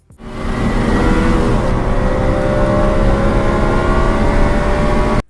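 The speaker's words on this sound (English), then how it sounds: "engine sounds and wind noise will do just fine" A loud car engine sound effect drones steadily with rushing wind noise in an Unreal Engine 5 scene, holding a constant pitch from start to finish before cutting off abruptly.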